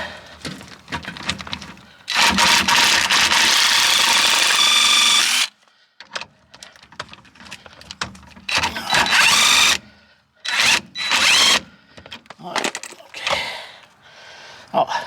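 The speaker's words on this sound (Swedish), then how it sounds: "Och lättast är ju med en sån här vanlig mutterknackare här." An impact wrench loosens a bolt on the rear anti-roll bar of a Volvo V70. It fires in long, loud, close bursts, then in shorter choppy bursts separated by silent gaps, with someone talking in between.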